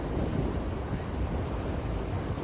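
Steady wind roars across Kentucky Lake, a dense, even rush of air buffeting close by with no breaks and no voices.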